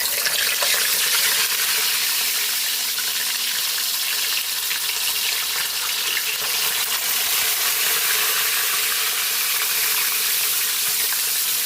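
Tilapia fries in hot cooking oil with a loud, steady, close sizzle that holds evenly throughout, with no voices over it.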